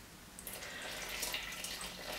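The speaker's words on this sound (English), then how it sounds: "just pour some of the water in" Water pouring into a bowl of bread dough mix with dry yeast, a steady close splashing trickle that runs continuously without talk.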